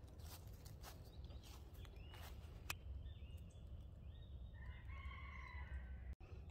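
Rooster crowing with hens clucking on a small farm at dawn, distant and faint crows rising over a steady low rumble and light footsteps, with no talk.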